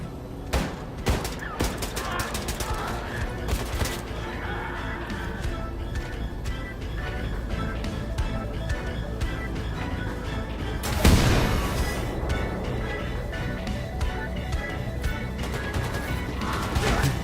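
Dense gunfire in Wolfenstein 2: The New Colossus rattles in rapid volleys of sharp shots, with a heavy crash partway through and continuous firing afterward.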